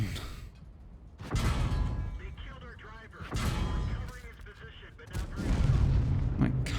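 Heavy tank cannon shots in the online game World of Tanks, a few loud booming blasts with rumbling tails, mixed with a player's talk.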